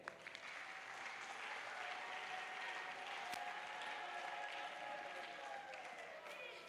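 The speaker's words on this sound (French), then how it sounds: "On peut encore acclamer pour elle." An audience at a graduation ceremony gives steady, continuous applause, fairly quiet and distant, with a murmur of crowd voices underneath throughout.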